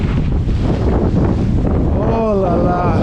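Strong wind roaring over a sailboat at sea, loud and constant buffeting close up, with a voice briefly heard near the end.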